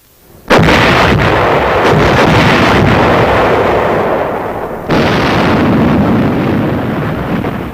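Army artillery batteries, directed by an aerial observer, fire on a target: a sudden loud blast opens a sustained roaring rumble, and a second burst rises partway through, with no voices.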